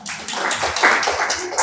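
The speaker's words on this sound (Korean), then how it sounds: "박수 한번 칩시다." Brief burst of congregation clapping in a church service, quick overlapping hand claps from a seated crowd lasting under two seconds, fairly close and loud.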